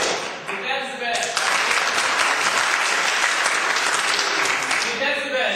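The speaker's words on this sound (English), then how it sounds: "So I want you to clap, voting for them." An audience claps to vote in a pet look-alike contest, the clapping swelling in after a brief voice and holding as a dense, loud wash before tapering as talk returns.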